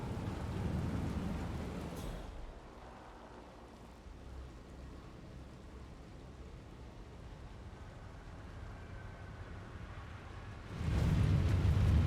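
Heavy rain pours in a Hitman 3 game scene, a steady hissing downpour with low thunder rumbling, louder at the start and end and quieter in the middle, with no talk.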